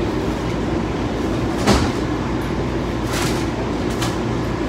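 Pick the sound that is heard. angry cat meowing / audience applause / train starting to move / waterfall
train starting to move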